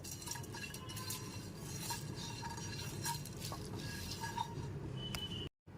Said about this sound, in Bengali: গ্যাসের ফ্লেমটা লোতে রেখে মশলাটা এখানে হালকা করে ভেজে নিয়েছি